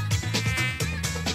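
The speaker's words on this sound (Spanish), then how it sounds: "Pedazo de mosquito." A mosquito enemy in the video game Alien Spidy gives a loud, steady, whining insect buzz that pulses slightly throughout, with no speech.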